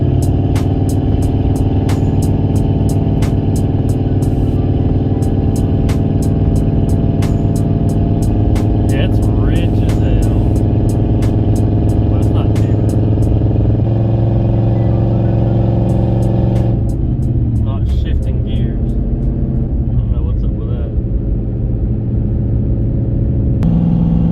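A car fitted with a freshly rebuilt engine drives along in second gear with a steady, loud mid-pitched engine drone. The note shifts in a few stages as the revs change, and the engine runs continuously throughout.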